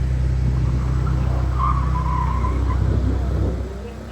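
A car on the Indianapolis Motor Speedway road course understeers and plows, its tires skidding and scrubbing with a steady engine drone underneath, fading slightly toward the end.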